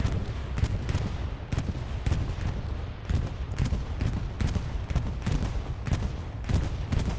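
Bombing run explosions in Hell Let Loose, a night match on Foy, come as a dense stream of heavy booms and thuds, loud and continuous with repeated sharp bursts over a rumbling low roar.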